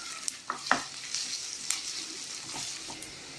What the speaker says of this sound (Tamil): இதை சேர்த்து வதக்கிடலாம். வெங்காயம் நல்லா வதங்கணும்.